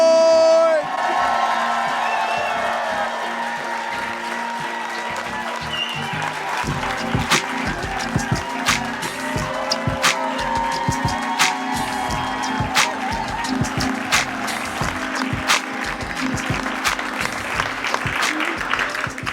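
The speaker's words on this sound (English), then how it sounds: "Clap your hands to give it up for my guy, Cincy's own, Tabari McCoy!" Sustained applause, cheering and whoops from a stand-up comedy audience fill the room as the comedian takes the stage, loud and continuous with scattered shouts throughout.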